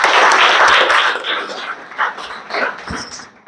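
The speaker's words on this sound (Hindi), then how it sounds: "बहुत अच्छा, लगाओ ताली जी इसके लिए" A classroom of students bursts into loud applause for a classmate, a dense clapping that fades after about a second and a half while a teacher speaks over it.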